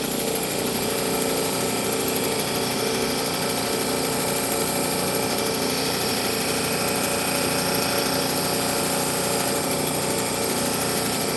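A soft lapidary polishing wheel runs steadily for turquoise and opal work, a continuous close mechanical whine and hum with no break or voices.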